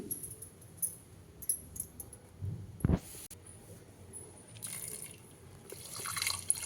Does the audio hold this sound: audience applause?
no